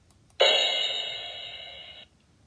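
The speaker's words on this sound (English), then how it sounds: "Click to hear crash," A crash cymbal is struck once with a sudden bright attack, then shimmers and slowly decays before being abruptly cut off, heard alone and close.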